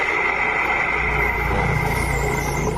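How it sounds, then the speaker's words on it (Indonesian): A noisy, faulty clutch bearing spins on a Honda Vario 125 scooter, giving a steady close whirring hum with a persistent high whine and a rough rumbling undertone, unchanging throughout. "kalau ini berisik berarti bearing presan bermasalah"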